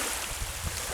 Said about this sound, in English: Is there anybody that doesn't like the sound of the waves or the rain?